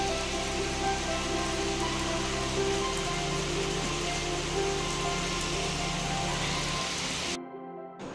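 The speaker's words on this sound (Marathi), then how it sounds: "आवाजावरून हे करा तुम्ही किती पाऊस पडत आहे" Heavy rain falls at night in a constant, dense roar of drops, with a faint low hum running underneath, until it cuts off abruptly just before the end.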